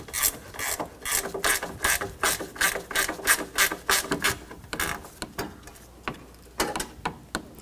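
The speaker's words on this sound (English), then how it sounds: "And we're going to take that bolt out." A ratchet wrench clicks rapidly and steadily, loud and close, while a bolt is backed out during radiator removal on a 2004-2009 Toyota Prius, with brief pauses near the end.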